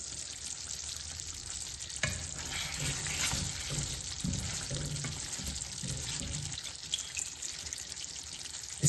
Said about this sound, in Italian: Scoliamo direttamente dall'acqua il limone e li versiamo all'interno